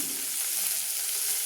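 Fish sizzles steadily in a hot pan of oil, a continuous close frying hiss with no voices over it.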